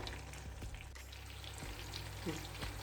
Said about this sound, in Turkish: iki orta boy domatesimi halka halka kestim ve yağıma attım